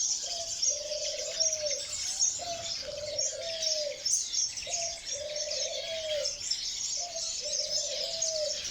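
Pigeons and doves coo in an aviary housing diamond doves, their repeated low coos falling in a steady rhythm under a busy layer of small birds chirping and tweeting.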